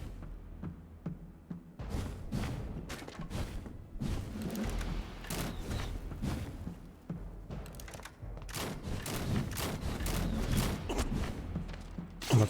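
Repeated gunfire bursts in the video game Vampyr, sharp shots and volleys scattered over a dense combat soundscape with thumps and mechanical clatter, fairly loud and continuous throughout.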